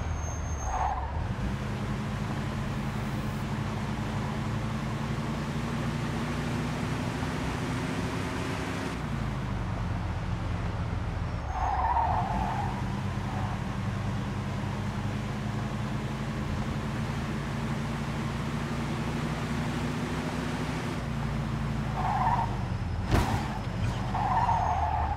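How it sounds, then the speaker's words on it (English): Tires skid and squeal repeatedly as a speeding car is chased through city streets in Mafia II, with a steady engine roar underneath and short screeching bursts every few seconds. "In pursuit of a speeding vehicle."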